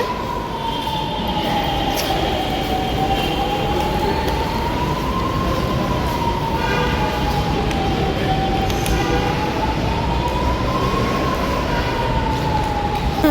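Loud, steady rumble of a metro train at Banashankari metro station, with a wavering high whine from the wheels or motors droning over the noise.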